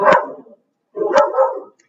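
A dog barks twice indoors, loud and close, with two separate sharp barks about a second apart and nothing else around them.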